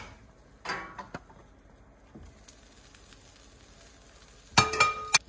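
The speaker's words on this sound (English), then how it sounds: "Sizzling, you can hear the sizzle." Reheated pizza sizzles faintly in a hot pan, a low steady hiss broken by a few louder clinks and scrapes near the start and a burst of sharp clatter toward the end.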